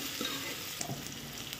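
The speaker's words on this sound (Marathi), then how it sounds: "आता आपण टोमॅटो टाकून घेऊया। टोमॅटोही थोडा मऊ होईपर्यंत परतून घेऊया।" Tomatoes sautéing in oil with fried onions for a Satara-style mutton curry, a steady soft sizzle with faint stirring scrapes, close and continuous, no talking.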